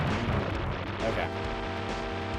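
An explosion blasts the top off a conning tower in the SNES game UN Squadron, a dense roaring boom with crackle under continuous game sound, while a voice talks over it.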